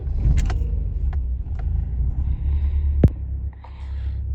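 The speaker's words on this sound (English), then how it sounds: "As you can see here, this car's running, everything is okay." A car with an M42 engine runs at a steady low idle rumble, with a few faint clicks over the drone and one sharp knock shortly before the sound eases.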